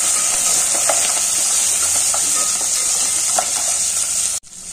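Green chillies and capsicum fry in hot oil, producing a loud, steady sizzle with faint spatula scrapes and stirring clicks, close up, cutting off abruptly near the end.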